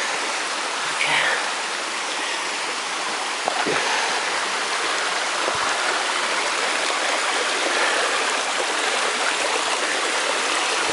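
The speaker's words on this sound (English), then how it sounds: "That's all that water that was coming out of the top up there." Water streams steadily through a cave area near an arch in Kentucky, a constant broad rushing flow filling the clip, with a brief voice and a few faint knocks over it.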